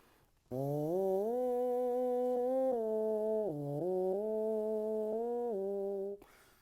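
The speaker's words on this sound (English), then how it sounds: "something I do called hand buzzing" A steady, buzzy brass tone from a trombone mouthpiece hand-buzzed with a cupped hand, held for about six seconds, dipping and rising in pitch a few times, close and fairly loud with no voices.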